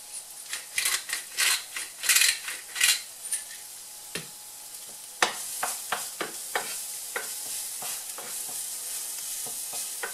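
Shallots sweating in a pan before bacon lardons are added, with bursts of close sizzling and stirring scrapes, then a run of sharp utensil clicks against the pan.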